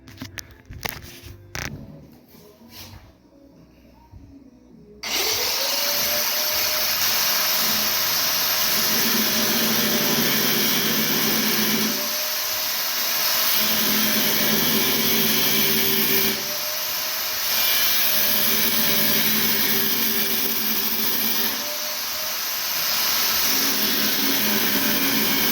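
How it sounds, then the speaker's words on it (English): An angle grinder cuts steel for a DIY portable winch box, starting after a few quiet clanks and then whining loudly and continuously, dipping briefly in pitch as the disc bites into the metal. "I don't use a grinder a ton, so I like to take it slow."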